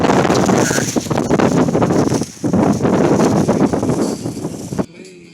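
Strong wind buffets the microphone in loud, continuous gusts with a roaring, rumbling rush, dropping briefly before cutting off near the end.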